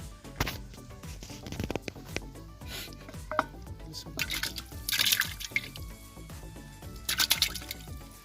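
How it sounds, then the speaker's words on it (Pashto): Water pours into a pressure cooker holding meat, with irregular splashes and trickles, a couple of louder bursts, and light clanks of the pot, fairly close and moderately quiet. "یو لیټر اوبه هم پکې واچولې"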